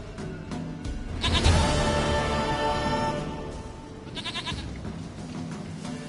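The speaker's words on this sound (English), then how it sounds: "Goat of mine, dearest, sweetest goat." A goat bleats in The Witcher 3, a loud, wavering cry near the start followed by quieter trailing bleats, with no speech over it.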